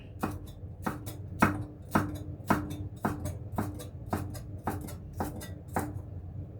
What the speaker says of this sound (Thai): พริกขี้ฟ้าเอาเม็ดออกก่อนแล้วก็หั่น